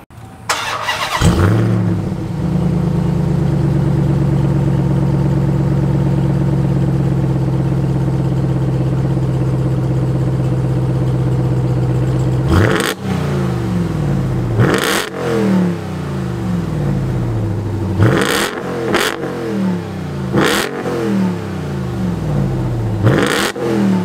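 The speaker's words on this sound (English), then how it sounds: "Let me do a quick start. I'll rev it up real quick" A 2023 Ram TRX Havoc Edition pickup fires up loudly, then holds a deep steady idle before being blipped through a series of sharp, booming revs, each rising and falling back, close and without talk.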